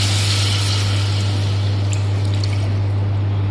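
Water poured into a pan of sautéed bitter gourd for an Indian-style vegetarian soup gives a steady, close liquid hiss over a low, constant electrical hum, with no talking.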